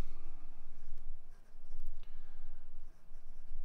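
Steady scratching of a Diplomat Excellence fountain pen nib gliding across Oxford Optik paper, close and quiet, with a few brief pauses between strokes.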